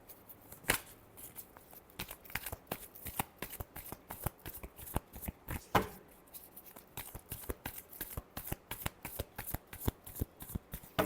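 Tarot cards riffle and snap in a steady run of quick crisp shuffles, close and clear, with a few sharper slaps along the way and no talking.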